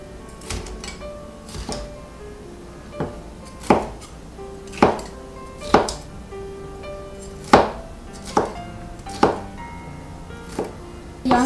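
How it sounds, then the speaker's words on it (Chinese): Bell peppers are chopped into chunks on a board, a run of about a dozen crisp knife knocks at an uneven, unhurried pace, close and clear with no talking. "彩椒也切成块。"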